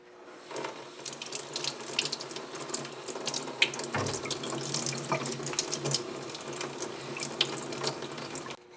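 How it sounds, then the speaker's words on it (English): Tap water runs steadily into a sink over abalone shells being cleaned, a constant splashing hiss with occasional clinks and knocks of shell against the basin. "let's go put some water on it"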